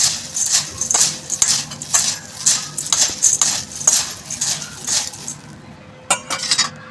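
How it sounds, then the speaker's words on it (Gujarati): Jhalmuri ingredients, puffed rice with namkeen farsan and chopped green chillies, tossed together in a bowl, giving a steady run of light rustling and clinking strokes close by, with no talk over it. "હવે આપણે બધું પહેલાં મિક્સ કરી દઈશું"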